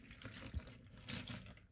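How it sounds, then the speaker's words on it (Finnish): Water is poured into an omelette mixture, a faint, short splashing gurgle with a couple of soft bursts, close by and quiet. "No sitten tuota lorahtetaan tää vesi tänne."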